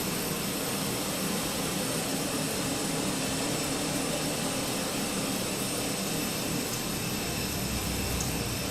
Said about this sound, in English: It's a little bit loud over here next to the APU.